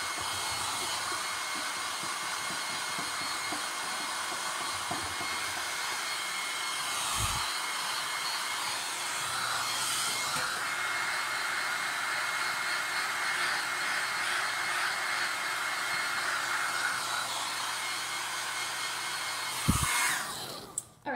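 A hair dryer blows steadily on a painted canvas, a close, continuous whooshing hum that runs unbroken, with a few brief knocks and a sudden thump near the end.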